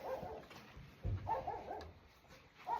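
Soft, high whimpers from a puppy, several short cries in a row over quiet background noise.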